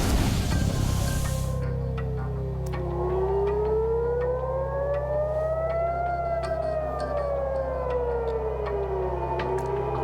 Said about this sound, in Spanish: Las sirenas sonaron en Tel Aviv el lunes por la noche